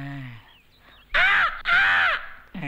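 A crow gives two loud, harsh caws close by, each drawn out, with a third cut short at the end; a soft voice-like murmur comes before them.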